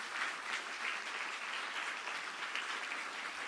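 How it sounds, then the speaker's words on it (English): At a formal speech event in Taiwan, an audience gives a warm, even round of applause welcoming former UK Prime Minister Liz Truss. The clapping is soft and somewhat distant, a continuous patter without pauses. "please join me to welcome the Right Honourable Liz Truss, Member of the UK Parliament and former UK Prime Minister, with a warm round of applause"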